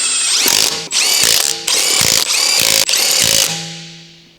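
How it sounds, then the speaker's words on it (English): An electric impact wrench with a 19mm deep socket hammers wheel hub bolts tight on a 2007 Honda CR-V, five loud close bursts of rattling impacts with brief pauses, ending in a whining spin-down. "Use a 19mm deep socket with an electric impact wrench to tighten the wheel hub bolts."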